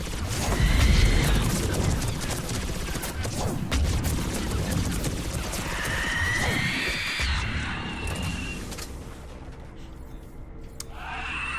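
Mass Effect 3 multiplayer gunfire crackles in dense, continuous bursts alongside booms and mechanical clatter, with a voice speaking faintly underneath.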